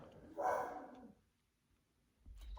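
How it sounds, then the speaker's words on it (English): A pet dog, a female, gives one short, muffled bark from nearby indoors, followed by near silence and then a brief rustle. "Excuse my dog. Maybe she'll be quiet."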